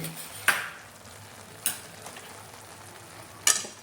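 Ghee sizzles softly in a pan with sliced almonds frying, a faint steady hiss broken by three sharp spoon clinks against the pan.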